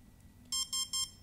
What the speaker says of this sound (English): So one beep is for brake, two beeps is for battery type,